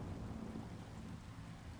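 In the Titanfall 2 video game, rain falls and thunder rumbles in a scene with plants and wooden walls, heard as a steady, soft wash of rainfall over a low rumble with no voices.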